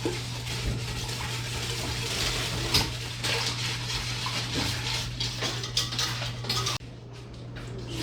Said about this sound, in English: And I'm going to go ahead and start whisking it.